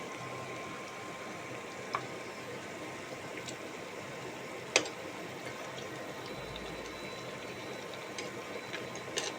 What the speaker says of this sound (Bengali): মালপোয়াটা ভাজতে শুরু করে দিয়েছি।